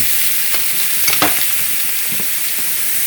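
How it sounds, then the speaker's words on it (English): Chicken pieces brown in a pan, giving off a loud, continuous sizzle broken by a few soft scrapes and taps as they are turned. "All we need to do is brown these."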